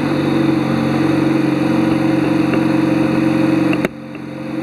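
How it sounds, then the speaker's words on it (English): An MGB car engine idles with a steady, even rumble and a faint rhythmic pulse, then cuts off abruptly near the end. "So I'll start the car now, and you will see what's going on there."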